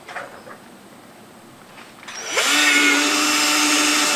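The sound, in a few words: power drill drilling a hole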